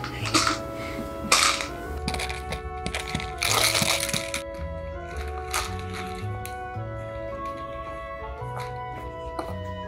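A plastic bottle knotted inside a sock as a homemade dog rattle toy gives a few short crinkling, crushing bursts, loudest in the first half, under steady background music.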